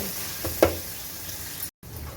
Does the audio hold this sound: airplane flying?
no